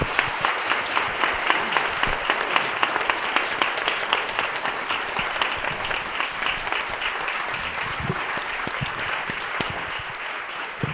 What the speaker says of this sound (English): I'd like to give them a round of applause to thank them.